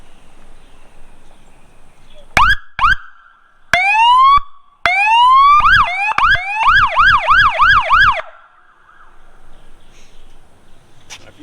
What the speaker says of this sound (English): You can also change your siren pitch from the hand grip here, the tone.